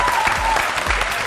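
A studio audience at a televised game show claps warmly in a brief, dense, steady burst of applause, close and even throughout.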